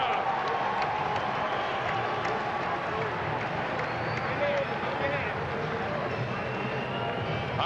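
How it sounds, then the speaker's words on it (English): Crowd noise at a boxing match, an IBF light flyweight title bout, rising after a body shot at the bell: a dense, steady roar of cheering and babble that fills the whole stretch, with a voice talking over it. "Listen to the crowd."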